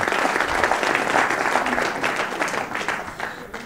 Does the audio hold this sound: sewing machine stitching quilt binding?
no